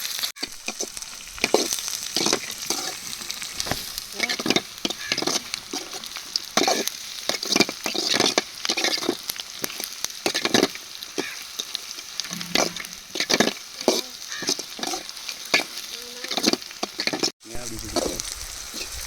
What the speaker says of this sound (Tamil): வெங்காயம் பொன்னிறமாக நல்லா வதங்கி வரட்டும்.